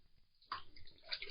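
A synthetic shaving brush dunked into water, giving a soft, close splash and gentle sloshing after a quiet start.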